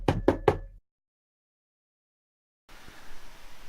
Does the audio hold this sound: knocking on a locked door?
yes